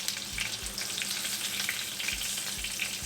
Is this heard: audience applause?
no